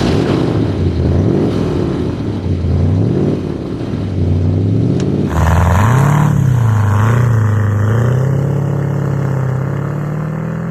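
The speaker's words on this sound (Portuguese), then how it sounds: "Chega disso, vamos dar uma volta." De Tomaso Mangusta Italian supercar engine revving and pulling through gears while driving, a loud, steady rumble with rising and falling pitch sweeps, a brief shift gap near the middle and a harder surge after.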